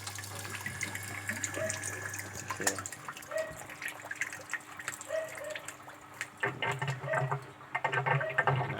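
A Sharp ES-F69 top-loading washing machine, being repaired for a failure to spin dry, drains water in a steady running gush with a low hum, shifting and growing louder near the end, with no talk.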